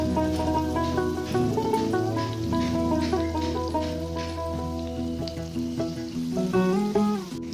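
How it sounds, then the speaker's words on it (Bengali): Kolar bora, banana fritters, fry in hot oil over a lowered gas flame, a steady sizzle running beneath prominent melodic music. "তেল ভালোভাবে গরম হয়ে গেলে গ্যাসটার আঁচ একটু কমিয়ে এই তেলে বড়াগুলোকে এক এক করে ছাড়তে হবে"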